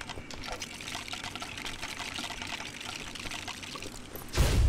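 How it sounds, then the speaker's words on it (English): Water splashes and pours over a character's face in a LEGO Star Wars video game, a continuous wet pouring and trickling sound at moderate level, ending with a sudden louder low thump. "Nothing wakes you up like a face full of water."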